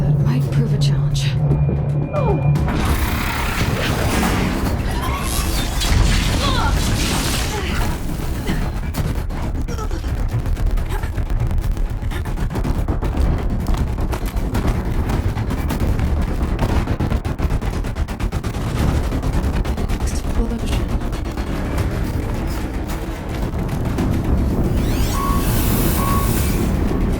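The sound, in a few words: explosion in the video game Horizon Zero Dawn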